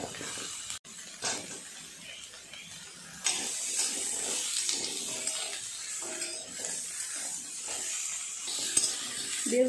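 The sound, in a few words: eggplant and potato frying in oil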